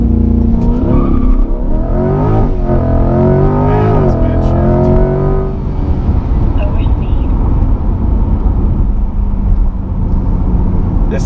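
A 2020 C8 mid-engine Corvette launching hard with launch control, engine roaring and climbing in pitch through a couple of gear changes, then settling into loud steady road and engine noise; a voice talks over parts of it.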